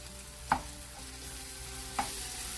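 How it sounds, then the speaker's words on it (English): Roasted eggplant being stirred with masala in a pan, two distinct scraping knocks of the spoon about a second and a half apart over a quiet, steady background, with no talking. "Mix the masala and the brinjal well. Since the brinjal is already roasted, we just need to cook it for 2 to 3 minutes."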